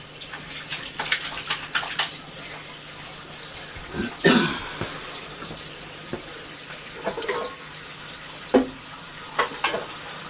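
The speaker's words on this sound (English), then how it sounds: "I'm going to wash my hands." A kitchen tap runs water for handwashing, a steady splashing stream with louder splashes and clatters now and then as hands move under it. Nobody talks.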